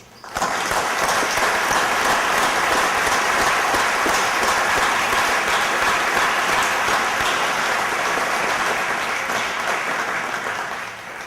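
A ceremony audience at an alumni awards event gives an honoree a sustained round of applause, dense and even throughout before tapering slightly at the end, with no voices.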